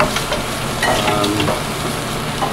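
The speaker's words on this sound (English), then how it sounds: "Right now I'm just melting the anchovies into the olive oil. Brown some garlic in there." Anchovies and garlic fry in olive oil in a pan, giving a dense, steady sizzle and crackle close by for a couple of seconds, with no voices.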